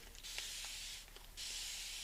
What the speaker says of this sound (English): give this a little bit of a spray